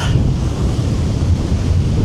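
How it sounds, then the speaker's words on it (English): Strong wind roars steadily into the microphone, a dense low rumble of buffeting gusts with no voices. "it is really windy"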